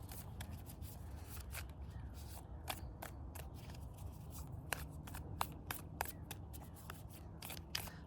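Tarot cards shuffled by hand in a garden, a quiet run of soft riffling flicks and snaps in an irregular rhythm, close and alone.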